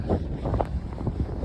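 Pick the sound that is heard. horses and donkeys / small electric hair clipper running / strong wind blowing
strong wind blowing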